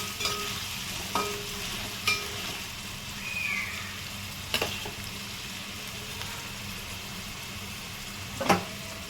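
One large, thinly sliced onion fries in a pan until reddish-brown, giving a steady close sizzle broken by a few sharp scrapes of stirring, with no talk.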